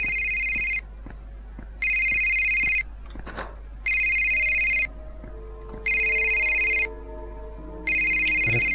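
A telephone rings in the horror game Joana's Life: five evenly spaced electronic rings about two seconds apart, clear and moderately loud over a quiet room with faint movement sounds between rings.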